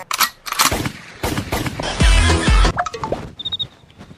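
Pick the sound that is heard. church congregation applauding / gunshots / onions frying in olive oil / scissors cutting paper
gunshots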